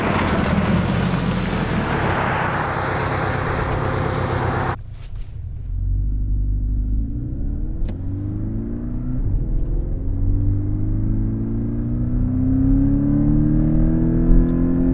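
A Porsche 718 Cayman drives on a coastal road near Malibu: a loud whooshing wind-and-tyre rush for a few seconds cuts to a steady in-car engine rumble that climbs gradually in pitch as it accelerates.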